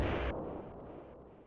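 A loud explosion in the 16-bit game TMNT IV: Turtles in Time. A sharp blast bursts out and quickly drops into a rumbling roar that slowly fades.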